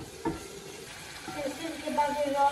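Spice paste sizzles steadily in hot oil with browned garlic while a tomato fish curry is cooked, with a stirring scrape near the start and the frying growing louder toward the end.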